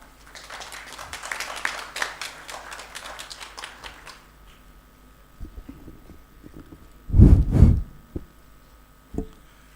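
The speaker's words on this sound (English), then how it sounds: "Please give them a huge round of applause" Audience applause at a neurology education course gathering: a few seconds of scattered clapping that fades out, followed by a couple of louder thumps and knocks in a quieter room.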